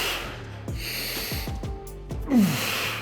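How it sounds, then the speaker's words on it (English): During a bench press, a lifter breathes forcefully in a series of sharp, rhythmic exhales and snorts, close and loud, building to a strained push of breath near the end. "Breathing in on the way down, pressing on the way up."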